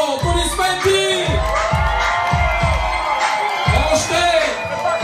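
A live show audience cheers and shouts in a continuous loud crowd roar with rhythmic clapping underneath, while an amplified voice carries over the noise.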